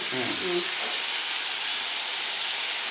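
Chili powder sizzling in hot oil while making beetroot pickle gives a steady, close hiss that runs through the whole moment, with a brief stretch of talk near the start.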